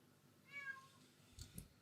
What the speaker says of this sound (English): she came running up the stairs meowing